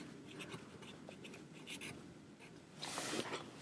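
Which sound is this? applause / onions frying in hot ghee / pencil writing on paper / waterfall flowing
pencil writing on paper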